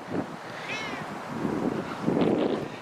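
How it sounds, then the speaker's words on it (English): A cat meows near a cafe and trading post at Crystal Lake, one clear wavering meow early on, with fainter mewing toward the end over outdoor wind noise. "That's the owner's cat."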